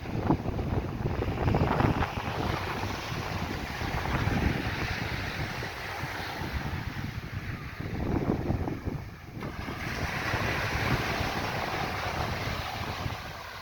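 Waves wash steadily onto the beach at Carlisle Bay on the southwest coast of Barbados, a continuous broadband surge mixed with gusty wind buffeting the microphone, no voices present.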